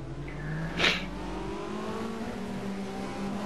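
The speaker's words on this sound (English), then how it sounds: "Cars are moving away on their formation lap." Race cars in a touring car racing video game pulling away on a formation lap at the Nürburgring GP, a steady engine drone with a brief louder swell early on, then a constant rumble.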